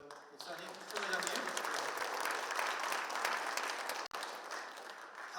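An audience at a church leadership inauguration breaks into sustained, dense applause heard from within the hall, holding steady after a quieter start with a brief dip near the end.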